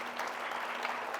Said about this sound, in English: while you're clapping for them